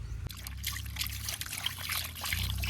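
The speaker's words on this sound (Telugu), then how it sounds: "కోసుకున్న ముక్కలు నీట్గా ఉప్పేసి కడుక్కుందాం." Cut fish pieces being washed with salt and water, a close trickling and splashing of water with light handling sounds, steady and unbroken over a low hum.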